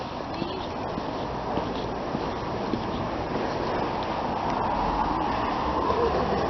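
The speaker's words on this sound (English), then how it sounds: "It's a very strange purple Southwest train 444." South Western Railway class 444 train at Honiton station, heard as a steady broadband rumble of rolling stock and running gear held at an even level throughout, with faint clicks over it.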